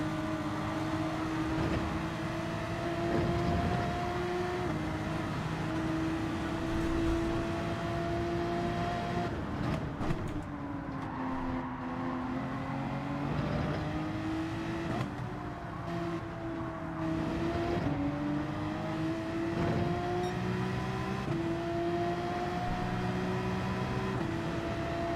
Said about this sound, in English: Does sound good, that Lamborghini.